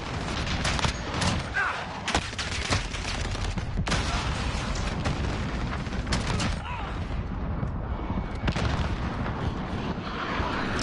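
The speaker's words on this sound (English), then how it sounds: "Friendly VTOL on station for overwatch." Heavy sustained gunfire from a VTOL aircraft giving overwatch support in Call of Duty, a continuous rumbling barrage of rapid shots and booming impacts mixed with in-game voice callouts.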